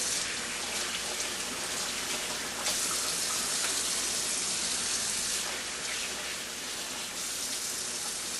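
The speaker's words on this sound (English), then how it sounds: "I'm just going to rinse it off with some cold water" Cold tap water runs steadily over catfish fillets in a kitchen, a continuous hissing splash with slight surges in intensity throughout, close by and alone.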